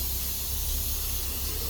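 A continuous, close aerosol hiss as brake cleaner is sprayed across the brake drum assembly of an Infiniti Q50, with no talk.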